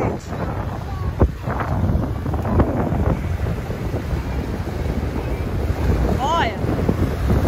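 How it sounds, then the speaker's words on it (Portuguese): Strong wind roars and buffets the microphone by Lago de Palmas in a continuous, loud rumble with gusty surges throughout. "Muito vento mesmo."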